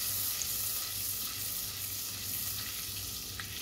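Butter sizzling steadily in a hot pan while bulgur is being cooked, a continuous hissing fry with no breaks and no voices.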